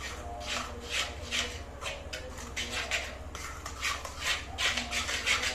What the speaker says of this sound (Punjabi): ਹੁਣ ਇਹਦਾ ਆਪਾਂ ਘੋਲ ਬਣਾਉਣਾ